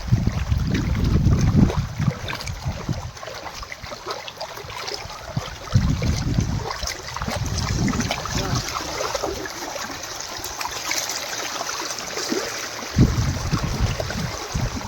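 Rainwater runs across a dusty rural road after heavy rain, a steady rushing wash with low rumbling gusts rising and falling throughout, no voices.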